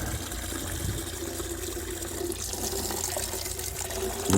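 Water runs from a tap into a water butt on a UK allotment, a steady, full gushing splash that fills the whole stretch with no talking.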